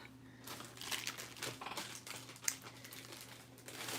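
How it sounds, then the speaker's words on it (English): Crinkling and rustling of a new size 2 dress being folded and slipped into a bag, a run of soft, irregular crumpling bursts close by, fairly quiet, with no voices. "So we'll just fold that up"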